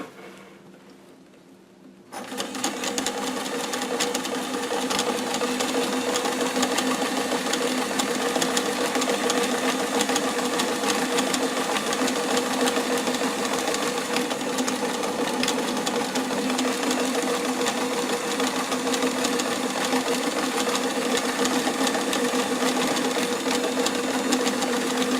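A sewing machine starts up and stitches continuously for over twenty seconds, a loud, even, rapid mechanical whirr and patter with a steady hum, close by and without talk.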